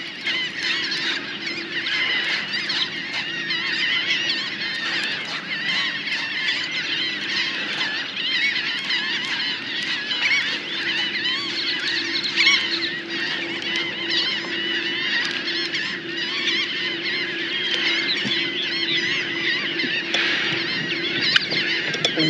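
Geese honking over a river while trout fishing, a steady, dense chorus of overlapping calls from a flock at mid-distance, continuous and fairly loud with no talking.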